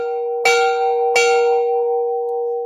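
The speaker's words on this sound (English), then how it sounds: "We're ringing the bell." A bell is rung twice at a charity event. Each strike is loud and close, with a long ringing tone that carries on and slowly fades.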